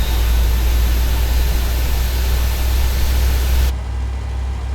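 A PMDG 737-700's engine 1 starting in the game MSFS 2020 produces a steady, loud broadband roar with a deep low hum, cutting off abruptly near the end and leaving a quieter rumble.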